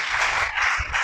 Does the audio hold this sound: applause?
yes